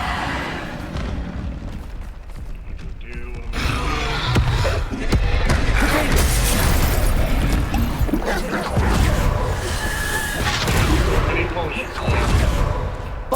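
Bombarda explosion spell cast in Hogwarts Legacy, a series of loud booming blasts in a dense, busy battle mix, with music and talk running through.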